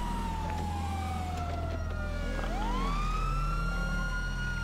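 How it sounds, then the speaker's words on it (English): A police siren in the video game GTA 5 Online wails with rising and falling tones over a steady low engine hum, moderately loud and fairly close. "Is this my siren?"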